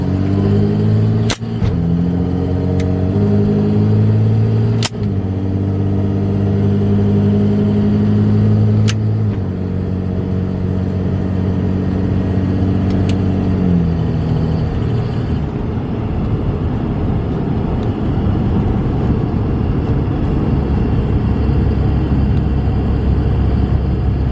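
A vehicle with a manually shifted 48RE automatic transmission drives steadily, its engine drone rising in pitch and then dropping at shifts, loud and continuous from inside the cab with no talk.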